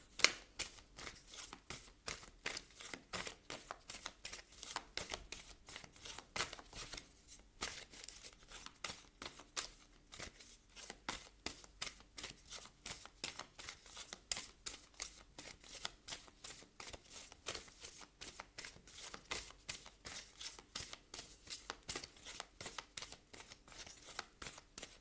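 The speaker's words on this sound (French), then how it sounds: "Je commence avec une carte de l'oracle de Denise Linn" Denise Linn's Sacred Destiny oracle cards are shuffled steadily for a long stretch, a dense run of close, papery riffles and flicks with no one speaking.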